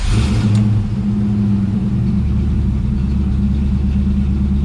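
An old car engine runs loudly and close, a deep rumbling idle with an initial rev that settles into a steady, heavy drone.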